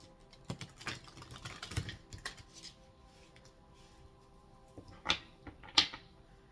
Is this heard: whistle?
no